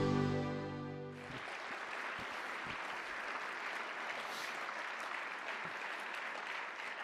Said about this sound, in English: Well, that would be the easiest applause I've ever had in my life.